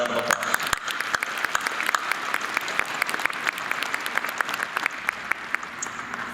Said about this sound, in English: Please join me in thanking them as well. Round of applause.